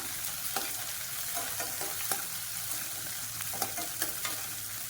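Shallots and garlic sauté in a hot pan for red rice and lentil dish, giving a steady close sizzle with a few sharp stirring clinks and scrapes throughout, no voices.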